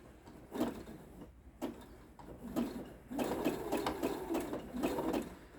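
Sewing machine stitching through thick oven-mitt fabric in short bursts, several brief runs of rapid clatter separated by pauses, then a longer steadier run, all close and without talk.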